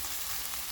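Potato curry (aloo fry) sizzling steadily in a pan over low heat, a continuous soft crackle of frying with no voices.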